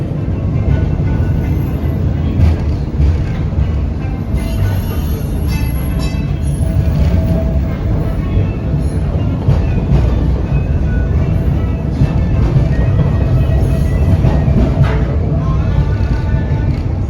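Onboard a Kenosha streetcar trolley rolling steadily on rails, with a continuous low rumble and rattle of the car body, faint squeals and clicks rising now and then, no talk.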